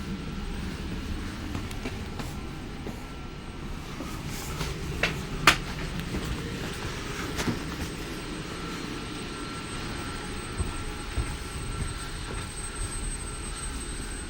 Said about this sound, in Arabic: ده هو القطر.